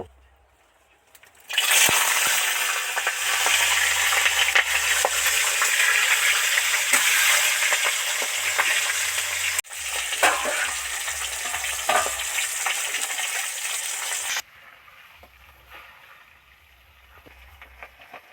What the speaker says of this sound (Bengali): তেল গরম হয়ে গেছে তেলের মধ্যে এই মাছটা ছেড়ে দেব